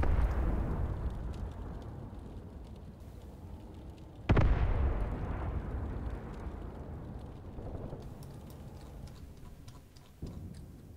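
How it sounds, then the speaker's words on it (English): A huge-caliber artillery gun fires in the Graviteam Tactics war game: a sudden loud blast with a long rumbling decay rises out of a steady low battlefield rumble, followed later by a smaller, fainter thump. "This is a huge caliber gun."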